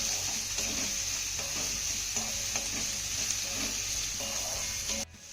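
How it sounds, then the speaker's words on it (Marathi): Chopped onion sizzles in a garlic tempering while being stirred, a steady close frying hiss broken by regular scraping strokes of a spoon against the pan, cutting off abruptly at the end. "आता एक मोठा चिरलेला कांदा यामध्ये घालूया. कांदा चांगला मिक्स करून घ्यायचा आहे."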